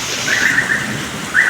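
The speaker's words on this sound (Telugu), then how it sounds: "సో చూసే కదా వాన ఇదనమాట" Heavy rain pours down in Bangalore as a steady, even hiss, with a thin whistling tone drifting above it and a slight swell in loudness at the very end.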